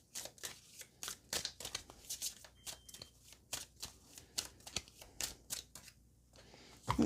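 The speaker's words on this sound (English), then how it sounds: "And then we're going to take 1 card from this deck as well." A tarot card deck is handled and shuffled before a single card is drawn, producing a quick run of close, crisp riffling and flicking card sounds, soft and steady throughout.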